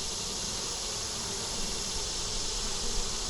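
Honey bees swarm around an open hive during a frame inspection where the queen isn't laying properly, a loud, dense, continuous buzzing close by with no pauses and no voices.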